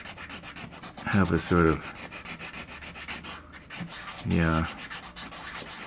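Steady rough rubbing of a sanding stick on wood while building a model ship, continuous strokes throughout, with brief bursts of a man's speech over it.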